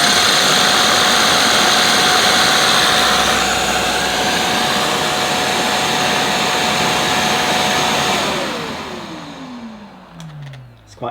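A Shark CV100UKT bagless cylinder vacuum cleaner runs loudly and close with its air-powered turbo nozzle, a steady whirring roar. It then powers down with a falling whine that ends in a soft click.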